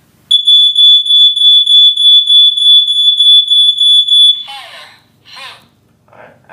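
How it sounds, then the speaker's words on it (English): A household smoke alarm, set off by pressing and holding its center test button, gives a loud, piercing series of rapid, evenly spaced beeps for about four seconds, then falls silent as faint voices follow. "this looks like it's your smoke alarm right there"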